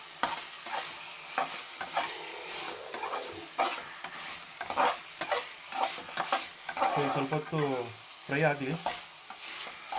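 Cumin seeds fry in hot oil with a steady crackling sizzle while a spoon stirs and scrapes the pan in quick, repeated strokes, close and clear, with a few soft spoken words partway through.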